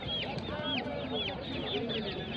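A four-month-old fancy-breed Aseel hen clucks repeatedly at the Putia poultry market in Narsingdi, giving short bird-like calls over market chatter and people talking.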